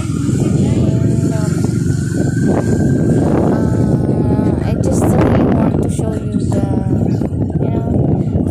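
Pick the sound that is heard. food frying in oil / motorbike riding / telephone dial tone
motorbike riding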